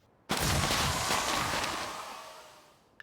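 A confetti cannon car horn from Forza Horizon 5 goes off once with a sudden loud burst, then a hissing, crackling spray that slowly fades, ending in a faint tick.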